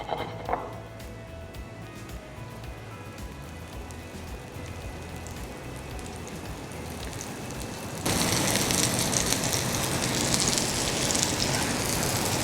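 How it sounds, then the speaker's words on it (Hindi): Marinated fish shallow-frying in coconut oil for a crispy Mangalore-style fish fry, with a steady hissing sizzle that suddenly swells much louder and brighter partway through. "शैलो फ्राई करा जाएगा इसको कोकोनट ऑयल में"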